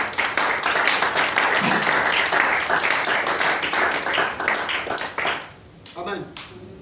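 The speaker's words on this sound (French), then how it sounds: "Est-ce que tu peux acclamer le Seigneur?" Church congregation applauding and acclaiming the Lord during a sermon, steady dense clapping with cheering voices that carries strongly, then fades and thins out near the end.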